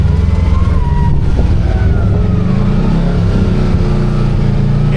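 A Kawasaki KRX 1000 side-by-side fitted with a clutch kit crawls over a course in crawling mode, its engine a steady loud low rumble with gentle throttle rises and falls throughout.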